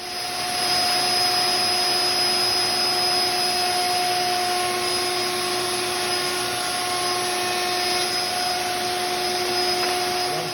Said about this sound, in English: all the dust is going to go into the dust collection system through the vacuum hose here